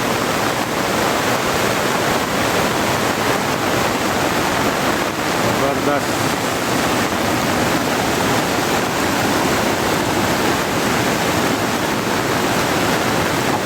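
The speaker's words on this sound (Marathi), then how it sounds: "जबरदस्त पावसाचा धुमाकूळ मित्रांनो जबरदस्त पाऊस नदीला पाणी नदीला मावना पाणी" A flooded Konkan river swollen by heavy monsoon rain rushes in a loud, unbroken roar of water, with a brief spoken exclamation over it.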